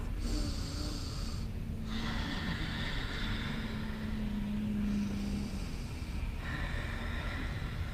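Deep yoga breathing: slow, steady breaths drawn close and clearly through the nose, several long rounds in a row with brief pauses between them, alone with no talk.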